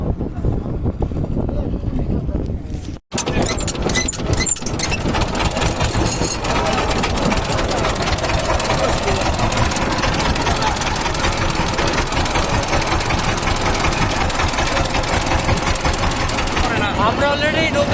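A boat engine on a river at Sariakandi, Bogura starts with a sharp break, then runs loud and steady with a dense, continuous mechanical drone for the rest of the stretch, close to the listener.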